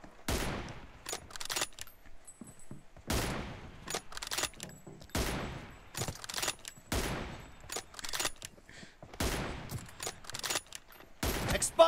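Repeated bursts of PUBG Mobile gunfire, loud and close, come in rapid volleys separated by short gaps across the whole stretch, with no talking over them.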